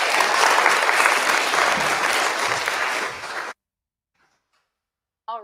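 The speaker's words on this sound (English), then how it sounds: "Can we give a round of applause to Patrick and" Audience at a university rivalry showdown bursts into loud, dense applause that holds for about three and a half seconds, then cuts off to silence before a single voice speaks briefly.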